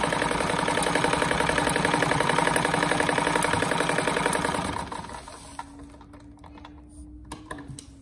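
A sewing machine stitches fabric strips for a patchwork rug with a rapid, close, rattling run of needle strokes for about five seconds, then stops, leaving a quiet room with faint clicks.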